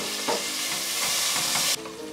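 Ginger garlic paste and fresh coriander sizzle in a hot pan for a vegetable salna, with steady loud frying and a few scraping stirs close up.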